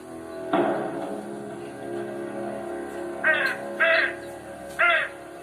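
A crow caws three times in quick succession, short harsh calls standing out clearly over a steady background hum after an earlier louder rustling sound.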